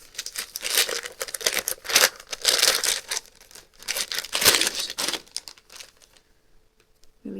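A small gift package is opened by hand, with close, crisp bursts of crinkling and rustling wrapping in uneven pulses for about six seconds before it quiets.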